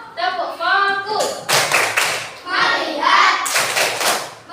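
A classroom of children plays a rhythmic clapping game, sharp bursts of loud, close hand claps alternating with chanted voices in a call-and-response pattern.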